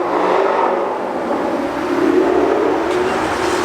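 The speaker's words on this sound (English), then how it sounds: "Once again, the cars are very loud." Loud traffic from cars passing on a nearby road in winter, a steady broadband roar that swells slightly as vehicles go by, with no talking.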